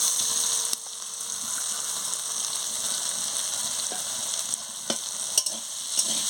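Sugar being stirred into frying chalta (elephant apple) chutney in a pan, with a steady sizzle and a few sharp scraping clicks of the spoon against the pan, no voices.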